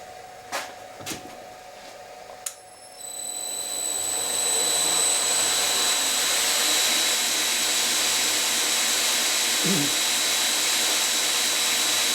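A belt grinder motor driven by a VFD spins up after a couple of clicks and settles into a steady, loud high-pitched whine with a constant electrical hum, running continuously.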